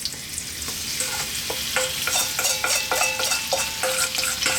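Fish pieces sizzle in hot sunflower oil in a pan for a fish curry, a steady close frying hiss broken by repeated scraping stir strokes.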